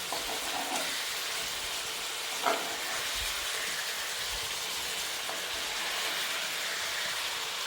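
Bagair fish sizzles in a frying pan with a steady, even hiss throughout, broken by a brief soft knock as the fish is flipped over partway through.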